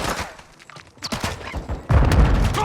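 Gunfire in the Call of Duty Modern Warfare II video game: scattered sharp shots and thuds, then a dense, loud burst of rapid fire near the end.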